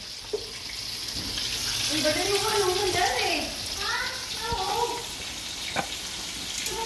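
Steady hiss and crackle of chicken frying in oil at a birthday party, continuous throughout, with people talking over it.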